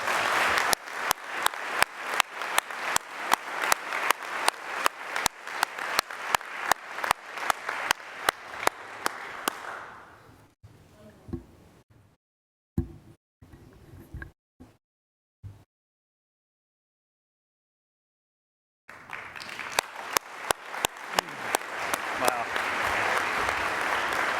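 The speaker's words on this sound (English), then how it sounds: "How about another round of applause?" A meeting audience applauds a presentation for the horse trainer D. Wayne Lukas, with loud, evenly pulsing claps for about ten seconds. The clapping fades into near silence with a few isolated sounds, then resumes strongly.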